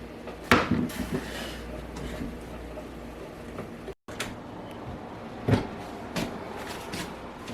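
Pondu mixed with two onions in a pot, scraping and clattering spoon-on-pot knocks at irregular intervals with a brief break in the middle, close and moderately loud, no talk.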